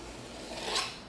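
A blade slices a bevel cut through EVA foam in one short rasping stroke that rises in the middle, close and alone.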